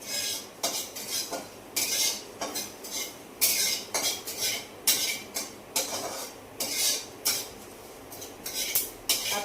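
Metal utensils scrape and clink against a pan while curry is stirred, a rhythmic series of bright scraping strokes about once a second, close and clear with no talk.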